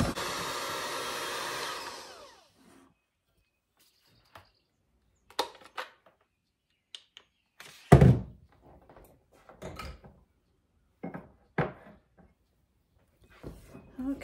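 Electric mixer beating powdered sugar icing for soft banana cookies, a whirring motor hum that runs for about two seconds and then stops, followed by scattered kitchen thunks and clatter.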